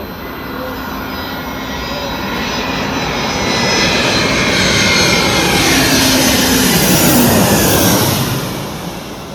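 A plane roars overhead, a broad steady engine rumble that swells louder toward the middle and starts to fade at the end.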